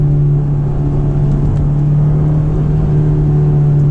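Honda S2000 engine droning steadily at close range with a strong constant hum, held at even revs through the gear changes and no voices over it.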